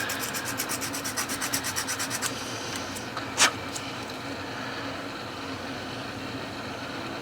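Sanding a small plastic part from an AMT 1963 Corvette model kit: a run of quick, even rasping strokes for about two seconds, then a single sharp scrape, followed by quieter steady friction and room noise, close and alone without talk.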